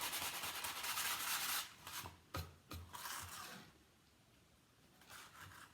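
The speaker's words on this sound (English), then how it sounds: "in some spots I will sand down to the wood" Sandpaper rubbing over a painted wooden sign, distressing the black paint down to bare wood in places: steady, close scratchy strokes at first, then a few separate short rubs and a quieter stretch near the end.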